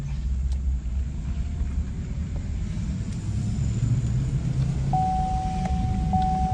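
A GMC Sierra pickup with a 6L80 transmission, newly fitted torque converter, driving steadily: continuous low engine and road rumble from inside the cab, with no clear break at gear changes and a faint whine rising late.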